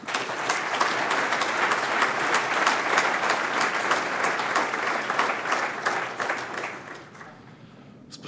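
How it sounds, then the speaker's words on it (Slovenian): Audience applause at the opening ceremony of the 50th MOS fair in Slovenia 2017, a loud, steady burst of many hands clapping together that gradually fades out near the end. "Jaz mislim, da lahko 50. mosu zaploskamo s 50-kratno močjo."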